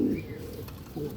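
Domestic pigeons kept as top-quality flying birds give a short, low coo, then a second coo a moment later, close and fairly quiet.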